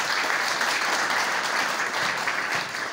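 A church congregation applauding together, with dense, sustained clapping from many hands at a steady level from start to finish, filling the room.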